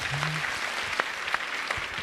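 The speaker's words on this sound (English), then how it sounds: "Clap for him for trying" Brief applause from an audience at a foundation education event, a soft, diffuse spread of claps with a few sharper hits, moderately distant and short.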